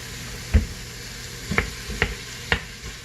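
Ground beef browning on the sauté setting of an Instant Pot, a low sizzling hiss broken by four or five sharp scrapes of a utensil against the pot bottom.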